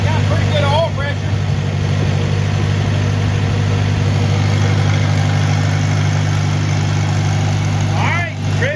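A 1949 Farmall Cub tractor engine idles steadily with a deep, even low-frequency hum throughout, while someone talks briefly at the start and again near the end.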